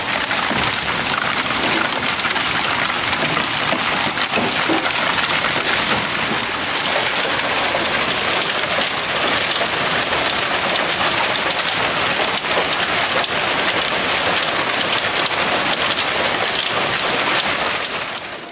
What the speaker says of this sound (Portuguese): mas depois o vento trouxe também uma chuva de granizo